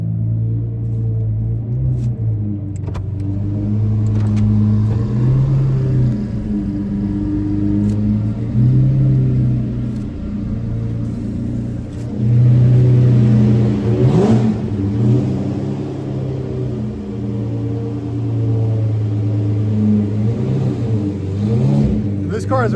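A gated-shifter Lamborghini Murcielago drives with a loud, close engine rumble that rises and falls through repeated revs, steady throughout with brief swells.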